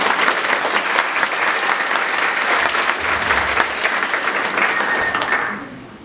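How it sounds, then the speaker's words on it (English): An audience at a 2023 awards event claps steadily in a dense, sustained round of applause that holds evenly and then fades out near the end. "Let's give them a round of applause."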